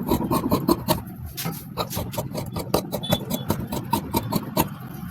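Blouse sleeve fabric is cut with scissors, heard as close, rhythmic snipping and rasping crunches in a steady series of short strokes.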